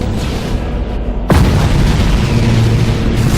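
Space fleet bombarding a station in the Battlefleet Gothic Armada video game: a sharp, heavy boom strikes partway through, then a dense, rumbling roar of explosions continues loudly without speech.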